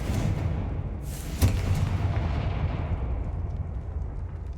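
A Confringo fire spell explodes in Hogwarts Legacy, a sharp burst at the start of a broad, loud rumbling blast that swells around a second in and then slowly fades over several seconds.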